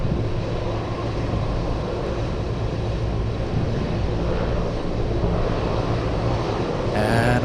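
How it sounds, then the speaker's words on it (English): A Cathay Pacific Boeing 747 at Anchorage airport produces a broad, steady jet roar that stays loud and even throughout, with a faint rising whine at the very end. "The Cathay 747."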